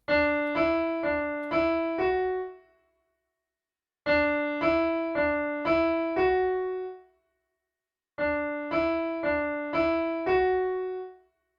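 A keyboard plays a short phrase of the Ganesh Aarti "Ek Dantay Vakra-tundaya" melody, four quick notes and a held fifth, repeated three times with clear pauses between, close and alone.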